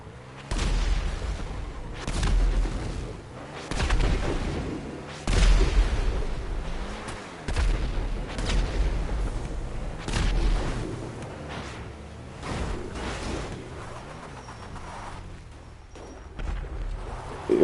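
Repeated bursts of gunfire and booming blasts from the GTA 5 Online video game, loud and spaced every second or two, with no talk over them.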